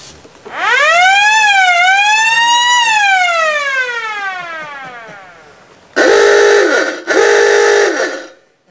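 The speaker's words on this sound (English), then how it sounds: "he drives round the village of Liverpool and he announces it by honking this klaxon" Loud klaxon on a king's throne vehicle in Liverpool, USA: a long rising and falling wailing blast, then two shorter, harsh honks close to the microphone.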